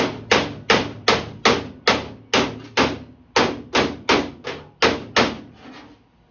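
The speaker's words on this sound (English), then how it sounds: "try tapping this up just a little bit" A hammer taps on a welded body panel of a 1946 Jeep CJ2A, about fifteen sharp metallic strikes in a fairly steady rhythm, each ringing briefly and heard up close with no talking.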